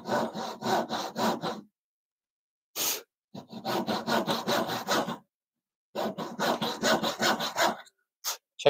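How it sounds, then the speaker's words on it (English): A hand saw cuts a kerf in wood while making an angle bracket with hand tools only, rhythmic rasping back-and-forth strokes in three close bursts separated by short pauses, with a couple of isolated single strokes. "Let's do our kerf cut here."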